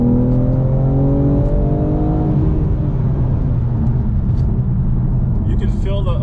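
A 2022 BMW M4 Competition engine revs under load on the road, its loud, steady harmonics climbing and falling through shifts, with a faint voice briefly over the engine near the end.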